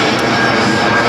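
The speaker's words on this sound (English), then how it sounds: "Sorry about the plane going over." A passing airplane overhead gives a steady, loud broadband engine roar that fills the whole short stretch without letup.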